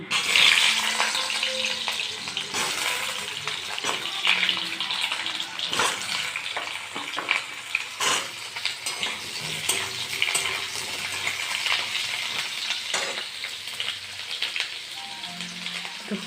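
Potatoes for chicken curry frying in hot oil, a dense continuous sizzle and crackle with scattered spatula scrapes and knocks, steady throughout with no talking.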